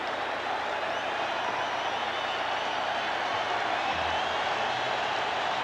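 A baseball stadium crowd at an ALCS playoff game roars in a steady, broad wash of cheering and noise that holds at an even level throughout, with no single voice standing out.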